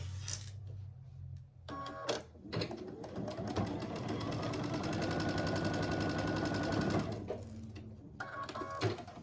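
A sewing machine stitching two fabric pieces for a quilt block with a quarter-inch seam, its rapid mechanical whir running steadily for several seconds between short bursts of handling and clicks.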